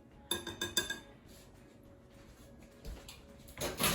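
A utensil clinks and scrapes against a bowl while quiche mixture is stirred at home, with a quick run of clattering taps near the start and another burst at the end, quiet in between.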